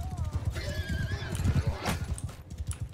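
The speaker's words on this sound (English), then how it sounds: "He got ran over by a horse." In a video game, a horse whinnies loudly over rapid, close clip-clopping hooves that drum steadily throughout, with a faint voice underneath.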